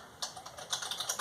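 Typing on a computer keyboard, with a handful of crisp, close keystrokes tapped in an uneven rhythm, heard alone without talk.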